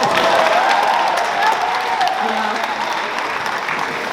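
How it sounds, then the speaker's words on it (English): A graduation crowd applauds, with dense clapping, some cheers and a few voices rising over it, holding steady throughout. "hold your applause, Alex."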